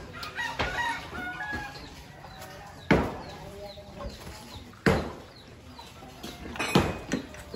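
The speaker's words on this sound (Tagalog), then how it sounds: "Yung mga manok rin guys." Chickens in a rural yard in Gumaca, Quezon, crowing and clucking close by, with a long rooster crow and sharp cackles rising over a busy background of smaller chick peeps and scattered clucks.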